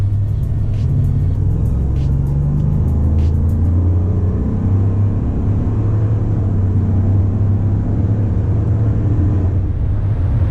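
Engine of a 2018 Ford F-150 pickup held at high revs in sport mode, a loud steady low rumble throughout with a brief higher whine early on, no talking.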